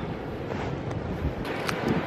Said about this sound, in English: it's quite rugged out here and quite windy